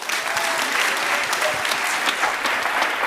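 An audience at a Google.org Accelerator GenAI demo day claps loudly and continuously after a presentation, a steady close wash of many hands.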